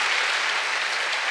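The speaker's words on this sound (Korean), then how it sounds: "계속 뜨거운 박수 주세요, 여러분." A concert audience at a Korea University concert applauds in a steady, dense wash of clapping with no gaps, loud and close throughout.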